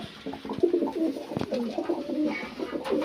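Pigeons in a loft give soft, repeated throaty coos close by, overlapping in a low rolling rhythm with a brief rustle or flutter in between.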